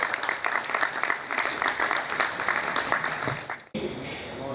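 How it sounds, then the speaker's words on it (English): Audience applause at a business roundtable on the 2022 Appropriation Act and construction, a steady dense clapping from a crowd that runs for several seconds, then drops off abruptly near the end. "Please clap for him."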